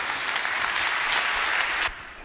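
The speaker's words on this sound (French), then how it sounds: "Veuillez l'applaudir." An audience applauds at an awards ceremony at the Sorbonne, dense loud clapping that stops abruptly near the end.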